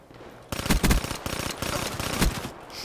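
Rapid bursts of automatic gunfire from a gun in Call of Duty: Black Ops 3 multiplayer, several loud close volleys after a short quiet start, with a faint tail at the end.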